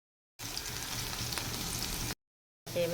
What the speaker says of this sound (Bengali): তেলটা গরম হয়ে গেছে, পেঁয়াজ দিয়ে দিলাম।